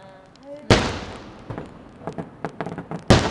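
New Year fireworks over Cebu burst with sharp booms, followed by a volley of smaller crackling pops and another loud blast near the end, with a voice briefly heard before.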